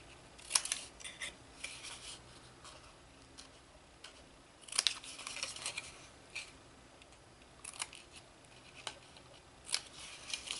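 Scissors snip wedges into paper box tabs: a close run of short, crisp cuts in uneven bursts with quiet gaps between them, and nobody speaking.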